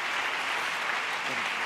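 Audience applause at a national public library congress, a steady dense wash of clapping across the whole moment, fairly loud and continuous without gaps.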